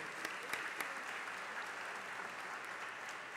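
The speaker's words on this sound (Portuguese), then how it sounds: "Aqui eu peço uma salva de palmas," An audience at a public debate applauds in a steady, dense patter of many hands that holds level throughout, fairly soft and somewhat distant.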